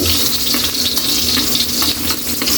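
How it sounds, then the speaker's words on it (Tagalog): Garlic frying in a pan for adobo, a loud, close, continuous sizzle with crackling pops and faint stirring throughout. "Mag-golden brown yung bawang natin."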